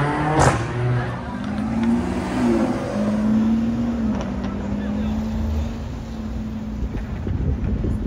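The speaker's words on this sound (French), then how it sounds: "Nouvelle Lamborghini Revuelto avec son gros V12 hybride." A Lamborghini Revuelto V12 hybrid supercar passes on a street in Geneva, its engine note rising and sweeping past at moderate distance amid wind noise and traffic, with a brief pitch change as it goes by.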